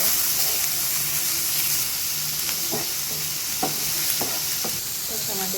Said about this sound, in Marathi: टमाटर पण फ्राय करून घेऊया।